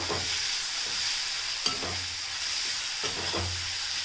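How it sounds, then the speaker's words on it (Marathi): Onion and minced garlic frying in a pan for a masala dry fish curry, with a steady close sizzle broken by several scraping stirs of a spoon. "लसणाला सुद्धा आपण चांगलं कांद्यामध्ये मिक्स करत आहोत आणि ते सुद्धा आपण कांद्यासोबतच शिजवून घेणार आहोत पूर्णपणे"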